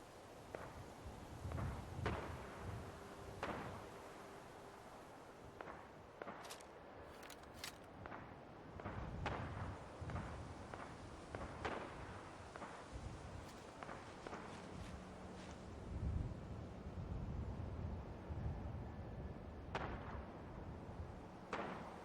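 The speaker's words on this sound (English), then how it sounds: "Where's this gunfire coming from?" Scattered gunshots and thuds from modded Fallout 4, some near and sharp, others distant, mixed with footsteps and irregular bursts.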